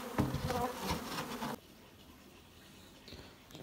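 Killer honey bees from a removed colony buzzing in a dense, close swarm, loud at first and then dropping to a fainter steady hum.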